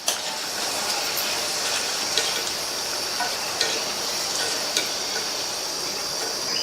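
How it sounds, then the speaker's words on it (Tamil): Okra frying crisp in hot oil, a steady close sizzle hissing without pause, with a few faint clinks of stirring along the way. "எண்ணெயோட சத்தமும் ஓரளவு அடங்கிருச்சு"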